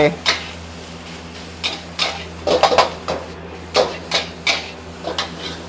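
A utensil stirs eggs in a pan as they set for egg fried rice, making scattered metallic clinks and scrapes in uneven bursts, close by, with someone talking in between.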